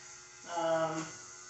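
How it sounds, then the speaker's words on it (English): An electric nail grinder filing a dog's nails gives a brief, moderately loud buzzing whir for about half a second above a quiet background hum. "If you hold the grinder down on the nail for too long, it heats up."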